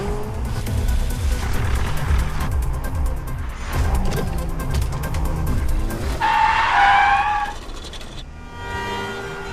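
A car in a film screeches to a stop with skidding tires, a loud squeal rising over engine rumble and road noise, close and harsh, after a stretch of driving sounds.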